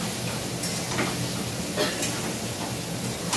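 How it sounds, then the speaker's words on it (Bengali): Marinated chicken is lightly sautéed in a pan, with a dense, even sizzling hiss and a few faint scraping stirs, close and steady throughout. "এবারে একটু হালকা কষিয়ে নেব।"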